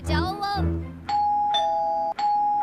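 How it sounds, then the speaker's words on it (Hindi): A doorbell chimes twice in quick succession after a brief moment of speech, each ring a clear sustained tone that rings out loudly and close. "तभी दरवाजे की घंटी बजी।"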